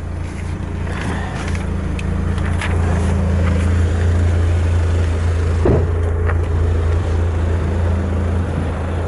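A Renault Clio Gordini 270 engine idles with a deep, steady rumble close by, a low hum holding constant throughout with a brief knock partway through.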